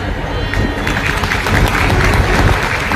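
An audience at a Vedic Shri Ram Mahotsav katha in an orphanage in Karnal claps hands in a dense, continuous burst of applause that stays loud and close throughout.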